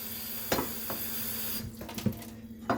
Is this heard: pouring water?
yes